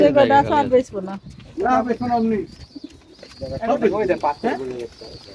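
Pigeons coo repeatedly at a pigeon farm, softly in the background beneath a man's steady conversation that dominates the sound.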